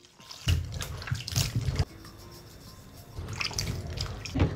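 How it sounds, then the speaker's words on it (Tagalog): Fresh strawberries rinsed under running water, a close, steady splashing stream that starts abruptly, briefly eases to a softer trickle, then swells again. "hugasan na natin yung strawberry natin"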